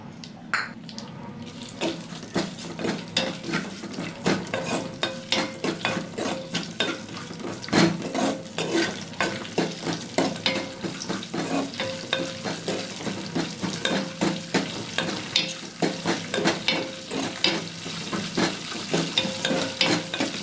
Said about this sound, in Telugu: బాగా ఫ్రై చేసుకోండి. గోల్డెన్ బ్రౌన్ కలర్ వచ్చేంత వరకు పోపు అన్నీను.